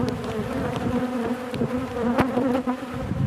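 Agitated honeybees buzz steadily and loudly during a beehive inspection, a dense droning hum with individual bees whizzing close past, and no talk.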